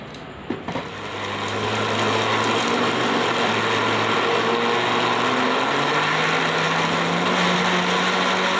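An electric grinder grinding seed kernels starts up after a brief clatter and runs with a steady, high-pitched whirring motor hum that continues to the end.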